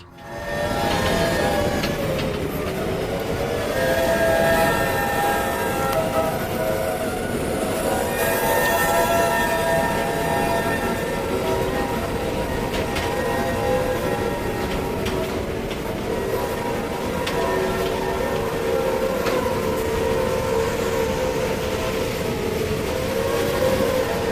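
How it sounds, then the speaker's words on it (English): A constant, loud rushing roar with droning tonal whines persists throughout, wind forced through the ventilation of a tall building, steady and unbroken. "it's only wind being forced through the ventilation due to the height of the building"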